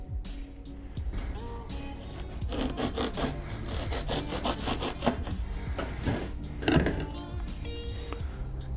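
A knife cuts through foam for a fursuit muzzle, making close, continuous rough scraping and crunching with small thumps along the way.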